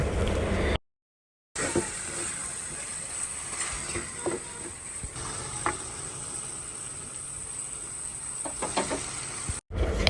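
Beef and taro cooking in a pan with turmeric added, giving a steady close sizzle with occasional stirring scrapes and clicks, broken briefly by short dropouts.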